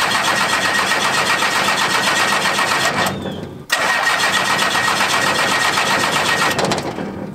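A first-generation truck engine is cranked during a start test, giving a loud, close, steady churning drone that breaks off briefly and then resumes without catching.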